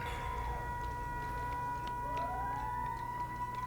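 A wailing siren rises and falls steadily over a constant low rumble, sounding moderately distant, with no voices.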